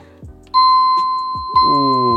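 Two bright electronic chime tones from a waterproof smart doorbell receiver ring out in succession, clear and close, with a voice briefly heard around them.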